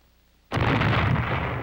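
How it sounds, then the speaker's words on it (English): A cannon fires a packed gunpowder charge with a ball: after near silence, a sudden loud boom breaks out and rolls on as a sustained, heavy roar. "Put in a charge of gunpowder, pack it tight, then the ball,"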